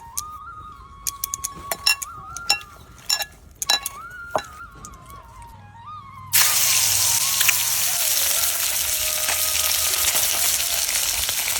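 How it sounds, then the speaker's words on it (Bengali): Lata fish coated in turmeric and salt fry in a wok, a loud steady sizzle that starts abruptly after a quieter stretch of clinks and a high whining tone. The sizzle runs continuously to the end without talk. "মাছগুলো ভাজা হয়ে গেছে"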